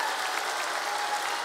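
A studio audience on a Serbian television show applauds the orchestra, a dense, even wash of clapping from many hands that holds steady throughout.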